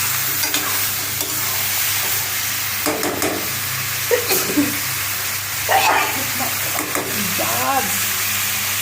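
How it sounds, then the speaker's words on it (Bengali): Fish curry masala is sautéed hard in a pan with a dense, steady sizzle, interrupted by several bursts of stirring and scraping. A low fan-like hum runs underneath, and brief vocal sounds may be present. "এখন এটি আমি ভালো করে কষাই নিব, ভাজার মতো একদম কষাবো ভালো করে।"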